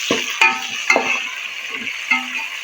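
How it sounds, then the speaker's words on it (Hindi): Onions with garlic-ginger paste fry in a pan for chicken changezi, with a soft steady sizzle broken by a few sharp scrapes and clinks of a spoon stirring. "इस टाइम पे हम इसमें लहसुन अदरक का पेस्ट है ये शामिल करेंगे और 2 मिनट तक हम इसको फ्राई करेंगे"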